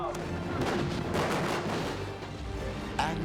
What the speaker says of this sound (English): I'm just gonna make up some booms for you, all right?